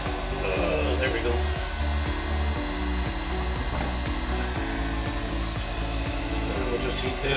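A heat gun blows a constant whooshing roar while heating material to stick against styrofoam, close and steady, with faint knocks and handling noises underneath.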